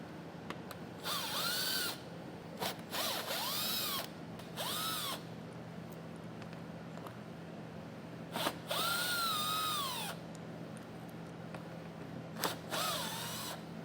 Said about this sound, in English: now we're going to take out 3 T15 Torx bits on each side.